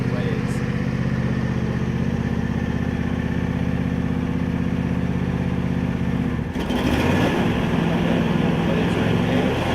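A John Deere E120 lawn tractor engine runs steadily and loudly at close range, then its tone shifts and roughens as the mower blades engage and it keeps running at full throttle.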